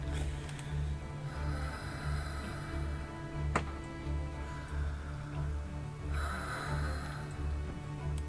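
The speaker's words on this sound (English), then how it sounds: "you can hear the dragon breathing up on the roof above you" A dragon's deep, slow breaths rumble in a steady rhythm of long, snore-like inhales and exhales, with a faint mechanical hum underneath and no talk.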